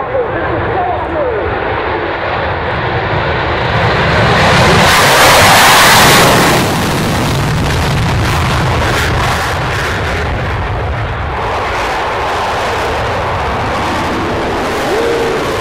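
A loud jet roar swells and peaks midway, then settles into a steady broadband rumble from a Solo Turk display jet flying past overhead at an airshow at RAF Mildenhall, with faint voices underneath.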